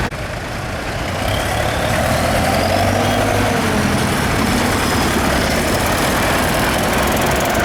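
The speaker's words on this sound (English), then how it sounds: "but it's a tractor" A tractor engine running steadily in the arena during the morning parade at a spring fayre, a continuous loud rumbling drone with no pauses.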